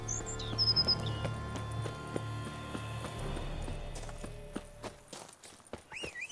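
Roach the horse's hooves clip-clop in The Witcher 3, with a run of steady hoofbeats over a low ambient bed and a few bird chirps. The clopping fades out and leaves quieter sparse sounds.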